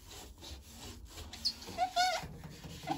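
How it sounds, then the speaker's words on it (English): Wet wipes rub over the inside of an LG ThinQ washer-dryer tub in short, soft scrubbing strokes, close and fairly quiet. "So what I'll use are wet wipes, and I'll just wipe it on the inside."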